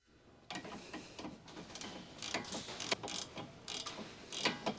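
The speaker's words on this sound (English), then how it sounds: "Use a 17mm ratcheting wrench to remove the nut connecting the sway bar to the sway bar link" A 17mm ratcheting wrench loosens the nut joining the sway bar to its link on a 2007-2013 Acura MDX, giving irregular close clicks and rattling ratchet bursts over a quiet background.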